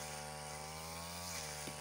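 A Tasco 328e brush cutter whines continuously at high revs, loud and close, while cutting through fern thicket. The harmonic engine tone holds steady for the whole stretch, with a slight rise near the end and no voices.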